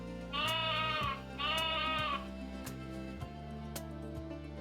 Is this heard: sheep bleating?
yes